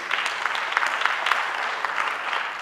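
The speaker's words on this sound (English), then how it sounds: "Could we have a hand clap for our presenters?" A conference audience at an academic panel on ethnonationalist histories claps for the presenters in a brief, even burst of hand claps at moderate distance.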